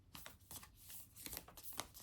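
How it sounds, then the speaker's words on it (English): Heart-shaped cards are shuffled by hand in a series of close, crisp riffling bursts, each short flurry separated by brief pauses, with no voice over them. "And they are hard to shuffle because they are heart-shaped."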